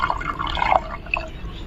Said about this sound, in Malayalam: ഞാനൊരു 3 ഗ്ലാസോളം വെള്ളം നന്നായി ഒഴിച്ചു കൊടുക്കുന്നുണ്ട്